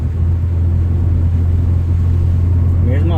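A Nissan automatic car, just shifted into second gear on a downhill stretch, hums with a low, steady engine drone that stays even and close throughout.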